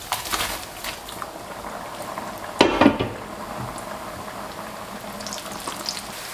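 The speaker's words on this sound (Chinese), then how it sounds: "放入我们切好的面条，" Strips of dough noodle deep-frying in medium-hot oil for a crispy egg snack, a dense continuous sizzle and bubbling with a loud burst of crackle midway as more go in.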